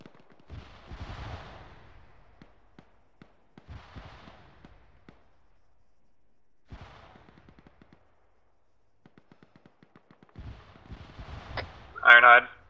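Distant Arma 3 gunfire and artillery: scattered booms and short rattling bursts recur across the stretch with quiet gaps, and a sharper, louder crack comes near the end. Voices talk intermittently over radio.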